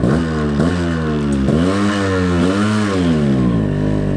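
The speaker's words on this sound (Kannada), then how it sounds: "ಗಾಡಿ ಸೌಂಡ್ ಕೇಳ್ತಿದ್ರೇನೆ ನಿಮಗೆ ಗೊತ್ತಾಗುತ್ತೆ ಯಾವ ಗಾಡಿ ಅಂತ ಆರ್ ಎಕ್ಸು ಇದು R X one thirty five four speed" A Yamaha RX135 four-speed motorcycle engine revs loudly up close, its pitch repeatedly rising and falling in quick throttle blips over a steady idle, with no voices.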